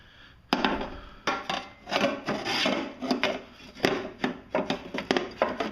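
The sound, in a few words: sliding a new mulch baffle into a Honda lawn mower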